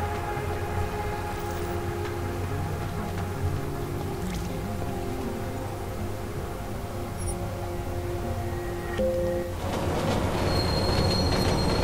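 Subway train running through a metro station in the video game Deus Ex: Mankind Divided, a steady loud rumble with squealing wheels and tonal hum throughout, swelling brighter near the end.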